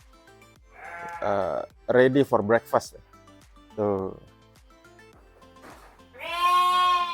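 Sheep bleat in a farm pen, several loud close calls in short bursts with quiet gaps, ending on one long sustained bleat; a person speaks briefly between them.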